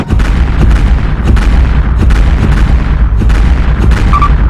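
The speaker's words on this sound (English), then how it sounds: "Firing starboard guns." A spaceship fires its starboard guns in a sci-fi space battle, producing loud, heavy repeated booms that roll one after another with no talking.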